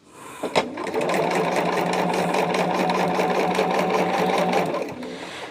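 Sewing machine stitches a jelly roll quilt in one steady, rapid run of nearly five seconds, close and alone, after a couple of brief clicks at the start.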